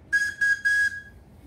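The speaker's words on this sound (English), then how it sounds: "That's how you make a carrot whistle." A whistle carved from a carrot sounds three short, loud, steady tones in quick succession, the last one held slightly longer, close by with nobody talking.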